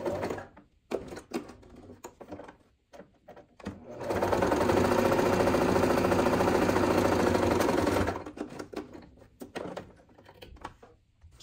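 Sewing machine stitching both sides of a fabric piece for a zippered project, a steady loud run of about four seconds alone, with quieter handling noises before and after.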